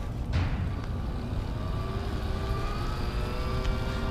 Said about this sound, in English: See, the motor's louder.